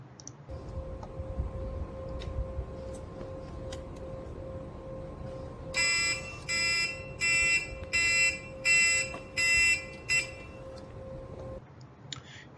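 A brake-assist safety model sounds its emergency alarm: a steady electronic tone joined by a rapid pulsing beeper in about seven evenly spaced bursts, loud and close, then cutting off.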